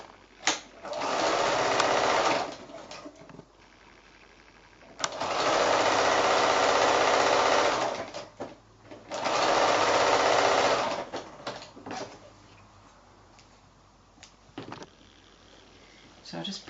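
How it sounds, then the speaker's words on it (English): A sewing machine stitches quilt sashing onto a square in several long, steady runs with brief pauses between them, close and loud, with some handling noise in the gaps. "So I'm going to sew that last one on."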